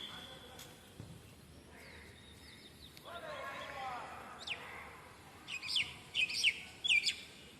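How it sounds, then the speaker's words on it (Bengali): A bird singing in a park along a walking path, several clear chirping phrases that grow louder and more frequent toward the end, with soft outdoor ambience and occasional light knocks. "দেখলেন তো পাখিটা কত সুন্দর করে ডাকতেছে"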